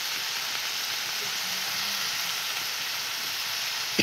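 Vegetables fry in a hot pan, giving a steady, even sizzle that holds at moderate loudness throughout, with no talking.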